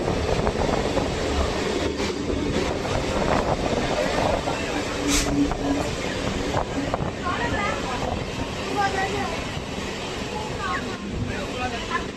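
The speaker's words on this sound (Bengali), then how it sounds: "এখন আমাদের ট্রেন এসে প্রবেশ করছে সংগ্রামপুর।" Diamond Harbour local train pulling into Sangrampur station, a dense steady rumble of wheels and carriages with scattered clanks and squeals, near and continuous throughout.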